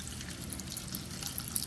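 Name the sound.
water being added to soap paste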